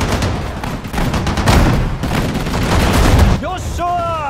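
Sustained bursts of gunfire and booming blasts crackle through a battle in Sudden Strike 4, set at Bataan, loud and continuous before giving way to a voice speaking over quieter battlefield noise.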